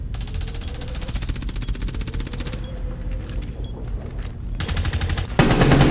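Gunfire in the video game Rainbow Six Siege on a yacht map: sustained rapid automatic fire, with a brief lull in the middle, then another loud burst at the end, with no talk over it.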